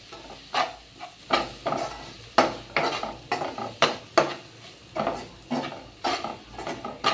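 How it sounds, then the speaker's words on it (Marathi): Pav bhaji spice masala cooks in a pan while being stirred, heard as a regular series of about a dozen scraping strokes over a low sizzle, close and unaccompanied by talk. "हा मसाला थोडा शिजू दे."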